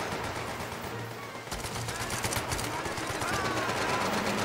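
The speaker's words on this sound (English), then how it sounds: "Who else is shooting?" Gunfire in the VR shooter Medal of Honor VR, a busy stretch of overlapping shots and bursts from the battlefield, steady and fairly loud throughout with a brief swell near the middle.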